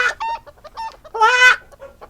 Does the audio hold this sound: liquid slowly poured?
no